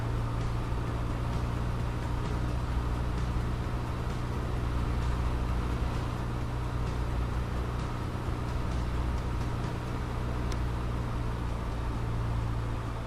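A steady, droning engine roar from a Piper Tomahawk light aircraft run-up in Microsoft Flight Simulator holds at an even level throughout, a continuous low rumble with a broad hiss over it and no pauses.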